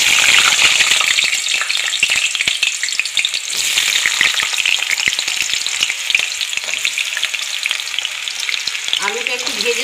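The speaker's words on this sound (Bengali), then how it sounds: "আলুটা একটু ভেজে নেব" Sweet potatoes fry in mustard oil tempered with black cumin, a steady close sizzle with crackling spatters throughout and a brief stir or scrape near the end.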